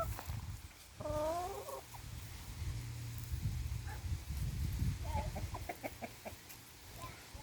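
Rescue hens cluck nearby in short bursts, with a drawn-out rising call early on and several quick clucks later over a low rumbling background.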